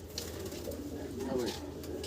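Red Lakha pigeons in a farm shed coo softly in low, rolling calls, with voices talking faintly in the background.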